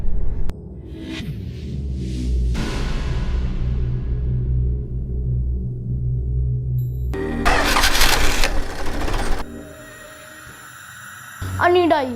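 A tractor engine cranks and catches, then settles into a rough mid-pitched running rumble, loud and close, with people talking over parts of it.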